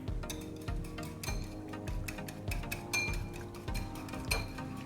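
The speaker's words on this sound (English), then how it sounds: "you're now going to whisk it" Wet doughnut batter ingredients, vanilla essence among them, are whisked in a bowl, giving quick rhythmic clinks and taps of the whisk against the bowl with a faint slosh, close up and continuous without any speech.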